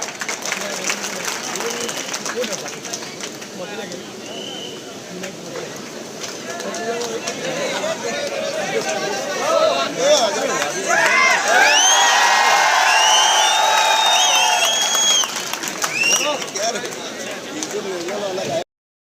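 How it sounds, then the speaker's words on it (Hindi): A large crowd at a political gathering in Malegaon applauds and cheers to welcome a guest, with loud clapping, whoops and scattered shouts. A voice talks over the noise, which peaks in the middle before easing slightly. "जैन पाटिल साहब का इस्तेकबाल कर रहे हैं तालियों के साथ"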